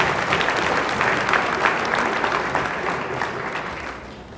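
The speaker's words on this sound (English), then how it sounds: "I think Lama needs a big round of applause from everyone in this community." A crowd claps in sustained, enthusiastic applause that slowly tapers off toward the end, at a memorial service.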